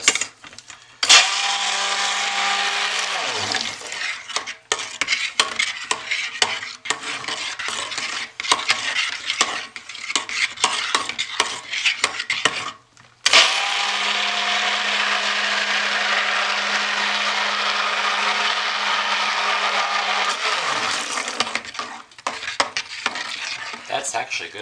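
An immersion stick blender mixes soap batter in two long bursts, a whirring buzz with a steady hum that winds down at the end of each burst, separated by clicks and stirring clatter.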